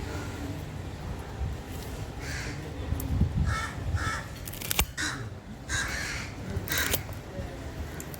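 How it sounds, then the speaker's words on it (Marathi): Several crows caw repeatedly at a moderate distance, their harsh calls arriving in irregular bursts over a steady outdoor background. "कावळी चिमण्या पण खूप ओरडत आहे"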